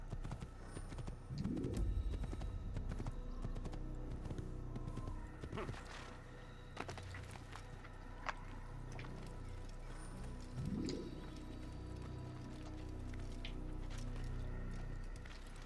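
Horse hooves clip-clopping in the Assassin's Creed video game, a steady quiet trot of muffled hoofbeats over ambient background with faint bird calls, alone without talk.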